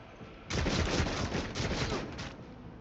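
Gunfire from the video game Warhammer 40k: Rogue Trader: after a brief lull, a dense, loud burst of rapid shots lasts about two seconds, with no talking.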